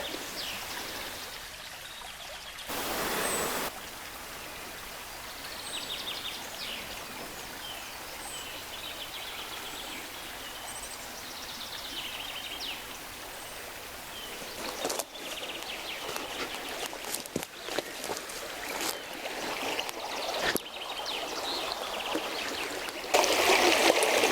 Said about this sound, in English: The stream is looking very, very full. It makes such a fabulous noise.